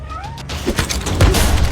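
A cat gives a short, close meow, a brief rising then falling cry in a tense action-film scene, followed by scuffling thuds.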